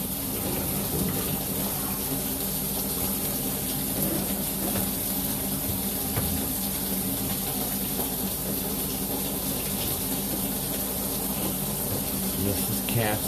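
Water draining through an old cast iron pipe as a steady rushing, gurgling flow, with someone talking at times over it.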